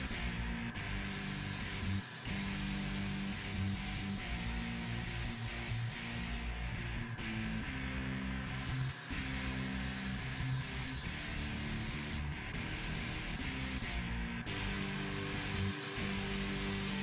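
An airbrush lays a light mist coat of Auto Air Sparklescent Mango paint on a Lamborghini at about 25 psi, giving a steady close hiss broken by a few brief pauses, with no talk.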